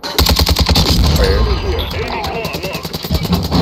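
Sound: RPK light machine gun firing, from a video game

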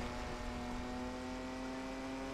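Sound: Nissan Fairlady Z engine in The Crew video game

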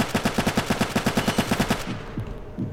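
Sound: gunfire in the Roblox video game Vanguard

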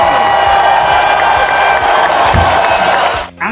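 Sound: audience applause at school celebration assembly

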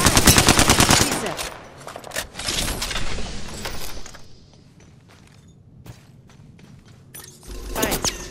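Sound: gunfire in the video game Apex Legends

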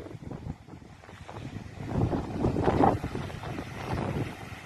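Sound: wind

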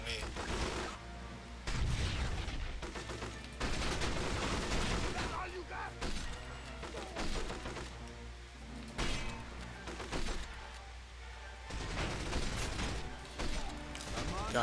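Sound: gunfire in James Bond 007: From Russia with Love video game

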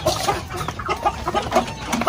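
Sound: chickens clucking

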